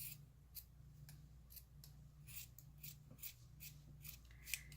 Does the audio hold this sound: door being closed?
no